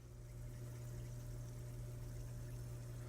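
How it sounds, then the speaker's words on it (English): An aquarium pump circulates tank water with a steady, continuous hum and faint watery trickle, close and unchanging throughout, with no voices. "it's still circulating. The pump is running."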